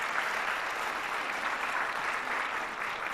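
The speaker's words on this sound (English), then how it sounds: "Let's applaud you." Audience applause at a Dominicans on the Hill gathering in the Capitol, dense sustained clapping from a crowd with no pause across the short stretch.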